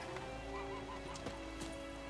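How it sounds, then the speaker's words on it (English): A horse in The Witcher 3 neighs and whinnies in a few short, agitated bursts close by, with faint hoof clatter underneath and a steady game-world background. "Why is your horse freaking out?"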